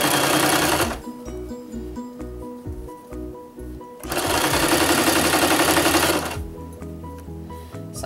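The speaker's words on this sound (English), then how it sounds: "So I'm just rolling, and I'm keeping the roll and the fold as consistent as I can in size. Sewing along." A sewing machine stitches a rolled hem on fabric in two loud, rapid bursts of motor whir and needle chatter, separated by a quieter pause with faint ticking.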